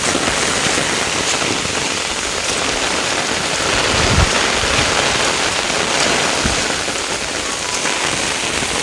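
Heavy rain pours down steadily in rural Konkan, a dense continuous roar of drops on surfaces with a couple of sharper splashes and knocks, and no voices.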